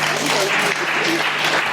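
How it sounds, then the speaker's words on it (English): Audience applause at a 2019 ANCA dinner party: a short burst of steady clapping from a seated crowd, with voices mixed in. "A round of applause once more."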